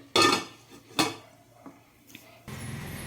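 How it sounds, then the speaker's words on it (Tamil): A metal lid clanks twice onto a pot of boiling vegetables for homemade veg noodles, followed by a few softer knocks and then a steady close bubbling hiss from the covered pot. "வெஜிடபிள் பாயில் ஆகிறதுக்காக லெட்டு மூடி வச்சிடலாம்"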